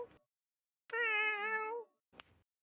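A person imitates a cat's meow, producing one drawn-out, tonal, fairly loud mew lasting nearly a second, with short bursts of breathy noise just before and after.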